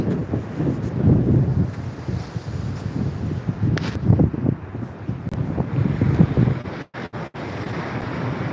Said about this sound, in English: Yeah, it's a little breezy out here today, a little windy.